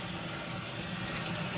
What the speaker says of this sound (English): Now we're going to rinse and just rinse everything off, as you can see.